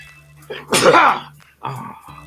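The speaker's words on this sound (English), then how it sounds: "that I sneezed." A single loud human sneeze erupts close to the microphone, with a quick inhale before it and a brief voiced sound after.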